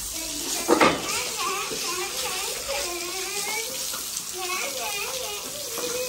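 Water gushes steadily from a hose or tap while a floor is being washed, a constant hissing flow close by, with people talking over it throughout.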